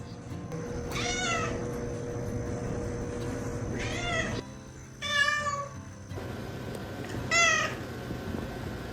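A formerly feral stray cat meows four times with drawn-out, rising-and-falling cries spaced a few seconds apart over a low background hum.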